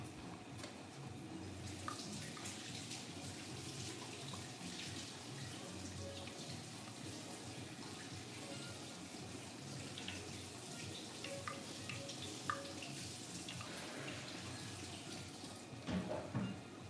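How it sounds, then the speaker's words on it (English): Water runs from a kitchen tap as a hand is rinsed, making a faint, steady splashing rush with a few small clinks. It is quiet and continuous, with no voices. "Let me rinse my hand."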